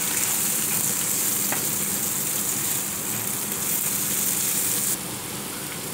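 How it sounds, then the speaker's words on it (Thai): Sliced onion frying in melted butter in a pan, a steady loud broadband sizzle that holds constant throughout, with a slight drop in intensity near the end and no talking. "พอเนยละลายแล้วก็ใส่หอมใหญ่ครับซอย นี่ก็เริ่มหอมแล้วครับเนี่ย"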